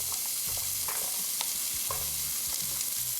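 Garlic hitting hot oil in a 5-quart pot over medium heat sizzles steadily, with a constant frying hiss broken by several clinks and scrapes of a stirring spoon against the pot; no voices.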